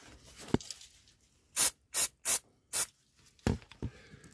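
Aerosol electrical contact cleaner sprayed onto dirty radiator contacts of a Daewoo Matiz, in four short, loud hissing bursts, close by, with a few quieter knocks and rubs before and after and no talk.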